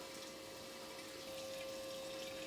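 Water pours steadily through a river erosion model, cutting a new course across its channel: a continuous, even rush and trickle with no pauses and no voices.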